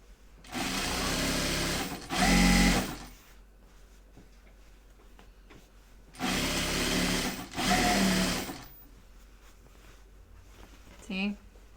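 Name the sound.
sewing machine edge stitching a bag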